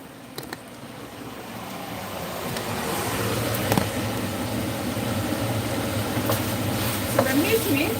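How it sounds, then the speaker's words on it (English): Minced meat for spaghetti bolognese frying in a pan: a steady close sizzle and crackle that grows slightly louder, with occasional clicks of a utensil and a voice faintly in the background. "minced meat is cooking. This one is to make spaghetti bolognese."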